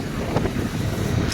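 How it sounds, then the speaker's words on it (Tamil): Wind buffeting a phone microphone outdoors on the way home, a continuous loud, rumbling roar filling the whole moment with no voices. "காற்று சவுண்டு."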